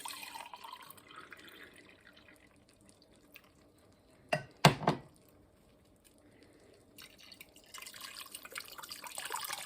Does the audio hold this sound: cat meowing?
no